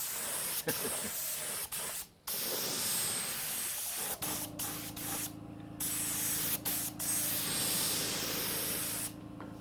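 Aerosol spray paint hissing steadily as a final coat goes on, a continuous close spray with brief pauses and short interruptions, alone without talk.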